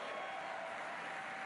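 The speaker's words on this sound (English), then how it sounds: "Great cheer as that red goes in." A snooker crowd at the German Masters final in Germany cheering and applauding as a red is potted, a steady dense roar of clapping and cheers with no break.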